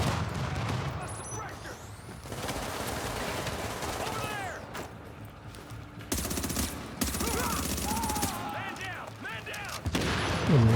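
Automated turrets open fire in a video game, bursts of rapid gunfire and blasts crowding a busy battle soundscape with scattered electronic effects, the shooting sustained and loud across the whole stretch.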